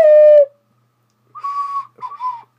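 An ocarina blown too hard lets out a shrill, overblown whistle, then after a pause two more wavering, off-pitch toots, loud and close with no voices.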